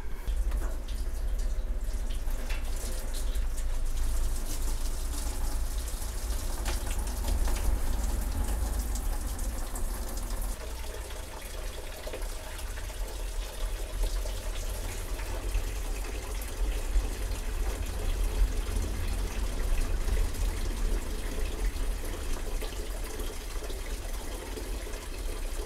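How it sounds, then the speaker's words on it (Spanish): Car radiator coolant draining through a hose into a container, a steady, continuous splashing trickle of liquid heard up close and alone for the whole stretch, with a constant watery hiss and no talking. "de esta forma me va a quedar perfecto el drenaje hacia el recipiente que tengo ahí preparado"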